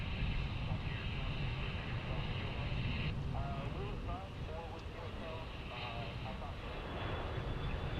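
Iberia airliner jet at DFW airport, a steady broad engine roar filling the whole stretch with a high whine on top, while a person talks over it.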